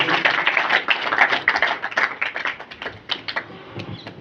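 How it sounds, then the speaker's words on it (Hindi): Loud, dense applause from an audience at a school farewell ceremony for a Class 10 batch, a steady burst of many hands clapping with no voices over it. "तालियां बजाएं एक बार जोर से।"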